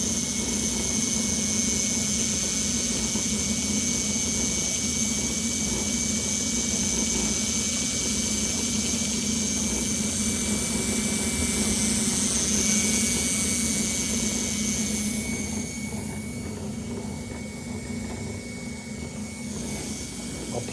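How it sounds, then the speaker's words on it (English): A magnetically driven wheel spins at high speed, giving a loud, steady, jet-like whine with a sustained low hum that carries evenly and then eases slightly toward the end. "the wheel's picking up major speed"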